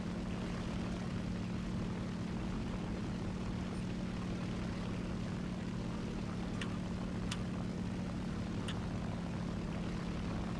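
A Spitfire Mark 1 propeller plane in a video game gives off a steady, even engine drone that holds without a break, with a few faint clicks on top.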